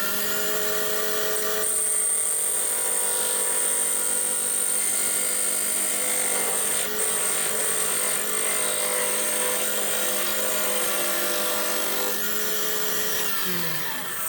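A woodturning tool shaving down yew wood spinning on a lathe, a steady, loud, continuous scraping whine with a high ringing tone that starts abruptly and holds almost unchanged before easing off near the end, close and alone.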